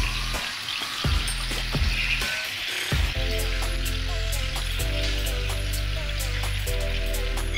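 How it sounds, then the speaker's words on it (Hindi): Chicken drumsticks fry in a pan over a low flame, seven pieces at once, with a steady dense sizzle throughout. Early on there are a few knocks and clatters as the pieces are added and moved. "हमने बिल्कुल लो फ्लेम पे जो है वो कुक करना है। जितनी इजीली 1 टाइम आपके पैन में आती हैं, आपने उतनी ड्रमस्टिक्स जो है वो पैन में ऐड करनी है।"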